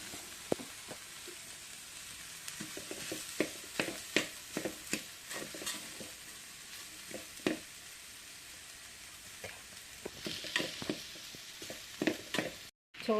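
Cooked rice gets stirred into a frying soya mixture in a pan, giving a steady low sizzle broken by repeated scraping and clattering strokes of the spoon, close and fairly quiet with no talking.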